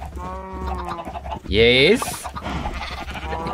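Sheep in the Minecraft video game bleat in a loud, wavering cry near the middle, with a person talking over the animals before and after.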